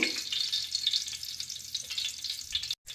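Whole spices, including cloves, cinnamon, star anise, bay leaves, fennel and shahi jeera, fry in ghee and onion-fried oil for ghee rice, giving a close, steady crackling sizzle that cuts off abruptly just before the end.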